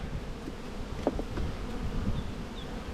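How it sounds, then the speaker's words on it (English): A steady, close insect buzz of many bees droning continuously on the centre frames of an opened hive, with a few brief louder passes over the constant hum. "There's a lot of bees on these centre frames."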